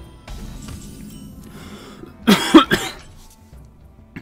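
Man coughing during a Hearthstone game session, a short cluster of two or three harsh coughs up close after faint background sound.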